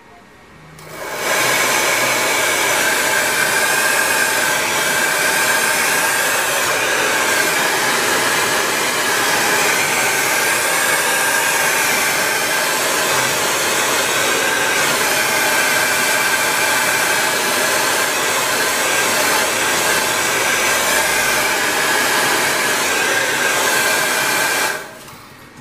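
A steady, loud rush of blown air from a dryer aimed at fresh varnish on a scale model, running continuously for about 25 seconds and alone, with no talking.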